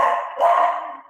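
Dogs bark out in the street, a muffled, distant burst of yelping and howl-like calls that swells and fades over about a second.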